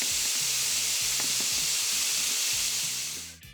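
Marinated beef steak strips sizzle in a hot oiled pan, giving a loud, steady hiss of frying with soft crackles and pops, then fading away at the end.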